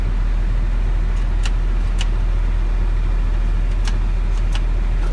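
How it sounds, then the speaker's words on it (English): A truck rolls forward inside its cab during a trailer brake test, with a steady, low engine rumble throughout and a few faint clicks on top. No one speaks. "I'm going to roll forward and manually lock my trailer brakes"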